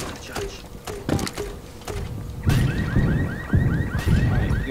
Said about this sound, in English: You fucking set the car alarms off.